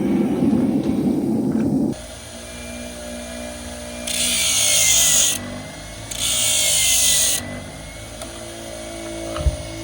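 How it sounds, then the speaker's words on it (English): An angle grinder works the edges of a steel horseshoe at a farrier's job, giving two loud, steady bursts of high grinding, each about a second long, between quieter stretches of motor hum, with no talking. "I like to grind all the way around my shoe to get rid of any sharp edges"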